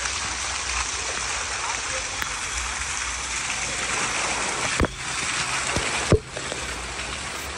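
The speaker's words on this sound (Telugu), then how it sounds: "చక్కటి వాటర్ ఫాల్స్." Waterfall in the green Kerala hills near Munnar, a dense, continuous rushing roar of falling water with a couple of brief knocks, while a voice speaks quietly over it.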